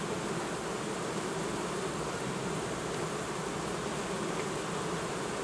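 A crowd of honeybees hums steadily over an opened Ursu hive while a nucleus colony is broken up, a dense, even buzz with no pauses filling the whole stretch.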